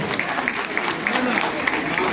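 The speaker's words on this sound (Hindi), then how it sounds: "और इस स्वागत के साथ आपने जो तालियों से अपना आशीर्वाद दिया है" Applause from a seated audience at a function in honor of the Chaudhary Jile Singh Trust, a steady, dense patter of clapping with some voices mixed in underneath.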